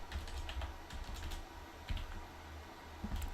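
Quiet, steady clatter of fingers typing on a computer keyboard, with irregular keystrokes and a few slightly louder taps, heard alone with no talking.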